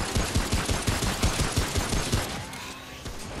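Rapid automatic gunfire from Remnant: From the Ashes, dense bursts of repeated shots filling the moment, then easing off slightly toward the end, loud and close with no talking.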